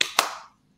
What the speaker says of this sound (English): So if I clap that out for you,